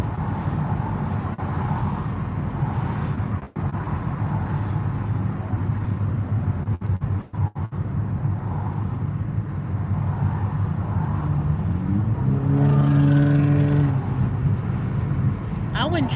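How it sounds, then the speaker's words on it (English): An old Toyota Corolla from 2002 running while being driven, its steady low engine and road rumble continuous throughout, with a rising engine tone near the end as it accelerates; someone talks over it. "I'm sitting here driving this old Corolla, and you see how it sounds? It runs just like it's brand new."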